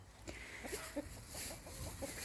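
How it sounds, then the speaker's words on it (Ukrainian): Hens and their newly hatched chicks in a backyard coop in Yaremche give soft, scattered clucks and peeps, faint and close, with a few short calls spread across the moment. "Курчатка, які вивелись у мене саме з цих курочок"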